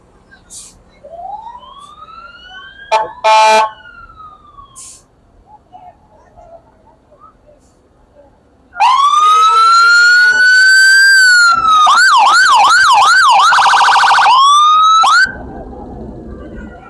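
A Hopkins County Fire Department truck in a lighted Christmas parade in downtown Sulphur Springs, Texas, sounding a loud, close siren that rises into a sustained wail and then a rapid yelp, after short earlier whoops.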